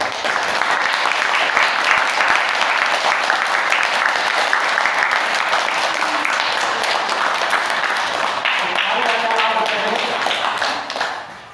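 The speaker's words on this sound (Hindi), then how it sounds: "अब ताली बजाना है, ताली जोर से।" A group clapping hands loudly together during an Omkar yoga session, a dense continuous burst of applause that carries on for several seconds before tapering off, with faint voices briefly audible near the end.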